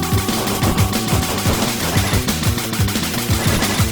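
Rapid, loud, continuous gunfire from the Mega Turrican game, hammering at a steady rhythm throughout while shooting at a shielded boss.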